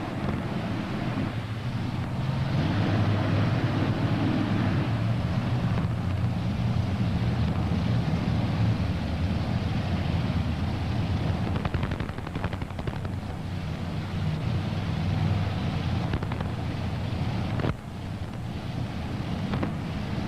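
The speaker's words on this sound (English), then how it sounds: "3 Donovan engines on board here as we go back to the starting line with Mr. Rockefeller." Pulling tractor with three Donovan engines at a 1996 tractor pull, a continuous heavy mechanical roar with rough crackling bursts, steady and loud throughout without voices.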